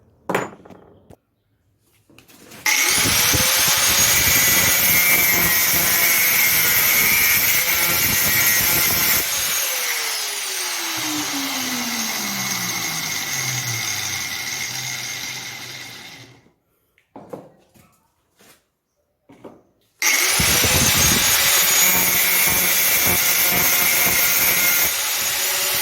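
Power tool grinding through a steel bicycle axle to shape a wedge for a homemade motorcycle wheel bearing puller, loud continuous cutting with a shrieking whine, pausing briefly twice and then resuming; no talking.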